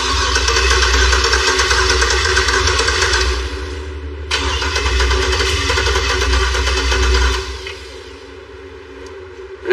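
A turbocharged Impala truck engine cranks without catching, the starter churning in a loud close rhythmic drone, pausing briefly, cranking again, then fading before a sharp sound at the end.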